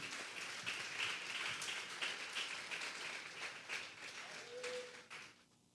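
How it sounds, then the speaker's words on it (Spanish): A church congregation at a Sunday service applauds, a faint, dense and steady wash of clapping that carries on for several seconds before tapering off at the end. "Vamos a darle un fuerte aplauso al Señor."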